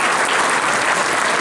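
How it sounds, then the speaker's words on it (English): Dense, loud crowd clapping fills a high school auditorium during a state senator's swearing-in ceremony, a brief continuous burst of applause. "Also round of applause for Governor Andrew Cuomo"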